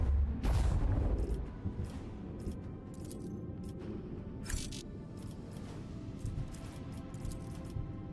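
Starship macro cannons in the video game Warhammer 40,000: Rogue Trader open fire with a heavy booming blast, followed by a dense rumble and a run of sharper crackling impacts that keeps going.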